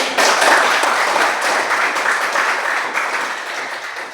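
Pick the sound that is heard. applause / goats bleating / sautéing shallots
applause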